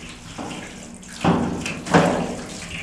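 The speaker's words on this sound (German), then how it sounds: "Wasserkübel lasse jetzt noch volllaufen, das dauert noch einen Moment." A water bucket fills from a tap in a horse stable, a steady rushing flow running throughout with a couple of louder surges as the stream shifts, fairly close and with no talk over it.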